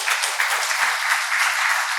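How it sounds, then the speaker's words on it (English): Audience applause at a faculty development programme session, a steady dense patter of many hands clapping throughout, close and fairly loud with no talk over it. "I think we need to give a round of applause to the gentleman."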